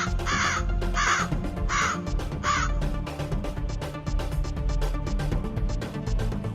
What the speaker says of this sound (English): many crows started coming down to peck at them all